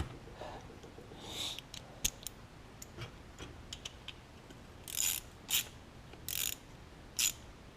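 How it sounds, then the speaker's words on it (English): Socket ratchet tightening the carburetor bowl nut on a Lawn Boy push mower with a 149cc Kohler engine, giving sparse clicking pawl strokes followed by several short, sharper ratcheting bursts, close and quiet. "We'll use the socket and the ratchet to get that back on"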